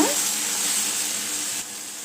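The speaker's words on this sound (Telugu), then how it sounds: "టమాటా గుజ్జు కూడా చక్కగా వేగిన తర్వాత" Tomato pulp fries in a pan for a brinjal chutney, giving a steady, close hiss of sizzling that dips slightly in level near the end.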